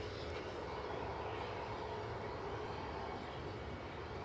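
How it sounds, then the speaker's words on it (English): A 13-year-old Embraer 190 jet airliner rolling for takeoff bound for London City, a dense, continuous engine roar, fairly close and steady for the whole stretch. "So plane you are looking at off to London City, an Embraer 190 standard."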